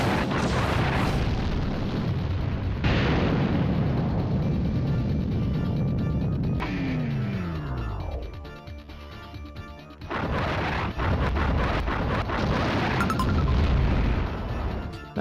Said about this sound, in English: Missiles everywhere.